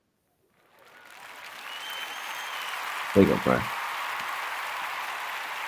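Applause rises from quiet and carries on steadily as a dense, rain-like patter, with a voice speaking briefly over it midway.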